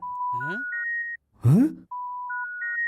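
Phone call dropping: a rising sequence of beeping electronic tones plays, breaks for a groaning voice, then the same stepped beeps repeat, clear and close.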